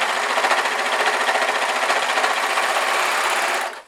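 An overlocker sews fleece fabric for a beanie hat with a fast, even mechanical chatter that runs steadily at close range. It then winds down and stops abruptly at the end.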